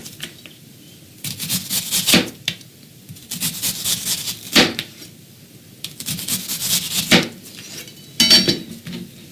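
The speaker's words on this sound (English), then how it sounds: "Let's go ahead and slice up some of the onions for the garnish." Onions sliced for a vegan burger garnish: close, crisp knife strokes against a cutting board in quick rhythmic bursts with short pauses between runs, no talking.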